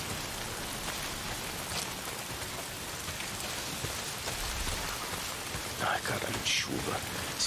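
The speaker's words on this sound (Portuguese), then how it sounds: "é essa merda de chuva. Por quê? Tá sempre chovendo." Steady rain in the video game Days Gone, a dense hiss of drops falling on surfaces, moderately loud and constant, with a few brighter splashes and scattered sounds near the end.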